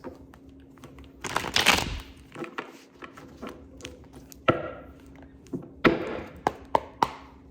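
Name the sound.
shuffling tarot cards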